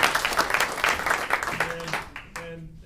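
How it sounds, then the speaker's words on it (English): An audience gives a round of applause for the Secretary of Education at a business school program session, a dense burst of clapping that thins and fades within a few seconds as a voice begins. "give you a nice round of applause for your time"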